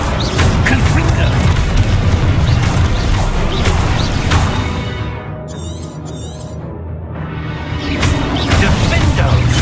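Fiery blast from the Confringo spell in Hogwarts Legacy, a loud booming crash amid dense game music and effects, with a brief dip in the middle before the din swells back.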